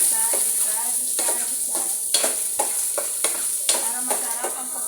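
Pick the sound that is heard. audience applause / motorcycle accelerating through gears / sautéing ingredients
sautéing ingredients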